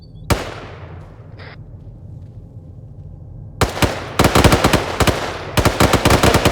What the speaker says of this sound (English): we're gonna give some warning shots